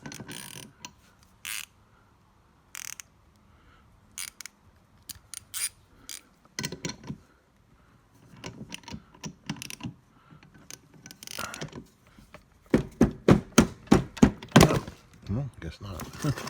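Sharp metallic clicks of a short hand ratchet working loose the wheel bolts on a Hart 40V self-propelled lawn mower, coming in uneven bursts then a fast, louder run of clicks near the end; no talking.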